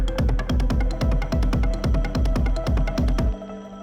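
A techno drum pattern built on paradiddle sticking: punchy kick thumps with snappy hits in a fast, steady rhythm, loud and close, stopping abruptly before the end.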